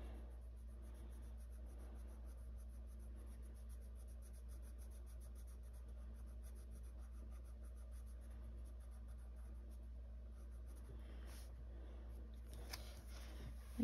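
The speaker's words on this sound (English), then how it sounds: "Just kind of a scratchy pencil." A scratchy colored pencil rubs back and forth on a coloring book page in a continuous close rasp of quick strokes, with a few brief paper rustles near the end over a steady low hum.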